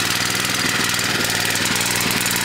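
A small generator running on a homemade wood pellet gasifier chugs steadily at close range, a loud continuous engine drone with a rapid knocking rhythm and no voices.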